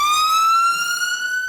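An ambulance siren in Jersey wails with a single bright, steady tone that climbs slowly in pitch. It sounds loud and close and plays alone, with no voices.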